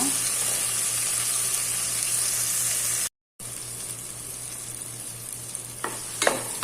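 Tomato and three green chillies sauté in a pan for ghee rice with rajma masala, giving a steady close sizzle with light stirring and a brief dropout midway, and a few louder scrapes near the end.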